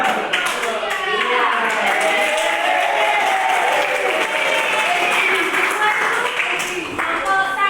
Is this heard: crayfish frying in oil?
no